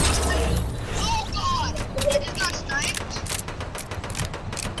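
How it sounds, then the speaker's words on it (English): Gunfire in the video game Fortnite during a squads match: rapid bursts of shots and sharp cracks under voices talking over the noise. "Somebody shooting."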